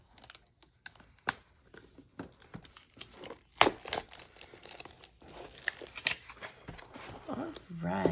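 Paper Pumpkin card kit packaging being opened, with crinkling and tearing of paper and plastic, irregular rustles and sharp crackles close by, building toward the end, with a voice speaking briefly.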